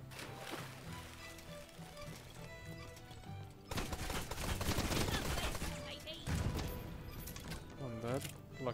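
Gunfire in the pirate video game Blazing Sails crackles in rapid bursts over game music and noise, while players talk throughout.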